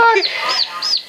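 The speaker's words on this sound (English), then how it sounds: "It's chirp, chirp, chirping on." A newly hatched chicken chick chirps indoors with a run of about four bright, high, arching peeps in quick succession, close and fairly loud.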